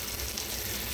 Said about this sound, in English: I'm just going to be cooking up all this bacon